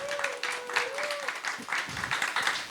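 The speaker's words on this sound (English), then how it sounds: "So let's give her a big round of applause." Applause from the audience at a Houston music forum, a short burst of clapping with a brief whistle-like tone early on, moderately loud and steady throughout.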